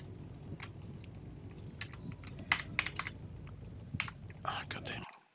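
Computer keyboard typing during a sim racing session at a Teretonga Park event, a steady run of close, quick clicks and clacks with louder key strikes scattered through, over a low hum and faint murmuring voice, stopping abruptly near the end.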